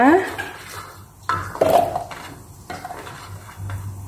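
Garlic and shallots dropped into a cooking vessel to grind a spice paste for beef tongue empal, with clattering knocks of utensils against dishes and a ringing scrape, close and intermittent in a quiet kitchen.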